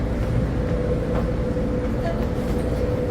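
A Las Vegas monorail rolls along with a loud, steady low rumble and continuous rolling noise from inside the car, with no clear voices.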